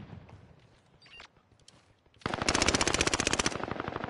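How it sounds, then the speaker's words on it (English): Sustained machine gun fire in a video game set in Caldara, a loud rapid burst of shots that kicks in abruptly after quieter game ambience and runs for about two seconds. "Oh, I'm getting shot from the side."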